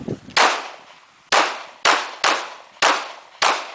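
Pistol gunshots at an outdoor range during a walk-and-shoot drill, six loud sharp reports fired at an uneven pace, each ringing out briefly.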